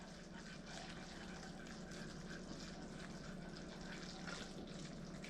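Sauce for a butterbeer iced latte is whisked steadily in a pan, a close, even bubbling and liquid churning that runs unbroken throughout with no voices.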